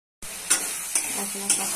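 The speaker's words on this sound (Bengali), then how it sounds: "দিচ্ছি জল, মশলা কষা" Ground spices (turmeric, chilli, cumin, coriander, salt) cooking with a splash of water in a pan for chicken curry: a steady close sizzle with three sharp scraping stirs of a spoon against the pan.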